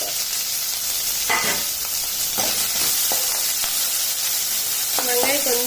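Onions sizzle and crackle loudly in hot oil with mustard seeds for snake gourd kootu, a steady frying hiss with brief stirring scrapes and clinks throughout.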